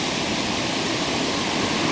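A small waterfall roars steadily and evenly, a dense, close wash of falling water with no voices over it.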